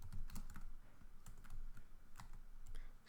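HTML and CSS code being typed on a computer keyboard: a quiet, steady patter of keystrokes with a few sharper taps, close and alone with no talking.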